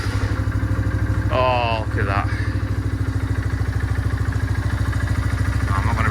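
A 2017 Honda CB125F (GLR125) single-cylinder engine, freshly rebuilt with a new piston and cylinder, fires up and settles into a steady, close idle. A person's voice breaks in briefly over the engine.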